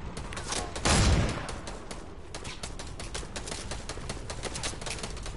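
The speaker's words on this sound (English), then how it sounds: "Oh, they're shooting." Rapid bursts of gunfire crackle through a Fortnite match, with one loud close blast near the start followed by a steady stream of quieter, repeated shots in the distance.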